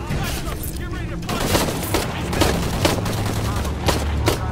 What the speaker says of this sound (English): Gunfire, do you stop it?